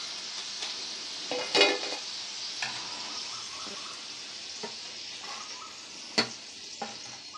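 French fries deep-frying in hot oil give a steady, hissing sizzle throughout, with a few louder crackles and pops rising above the bubbling.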